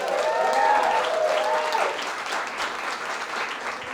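A festival crowd at Junkyard Social in Boulder breaks into loud, dense applause at a comedy show, a steady wash of clapping that starts strong and eases slightly over a few seconds.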